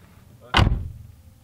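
A Subaru car door swings shut with a single solid thud that fades quickly, set against quiet background.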